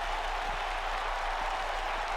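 A WWE 2K arena crowd during a Jon Moxley vs Finn Balor match gives off a steady, dense roar of cheering and applause that fills the whole stretch without a break.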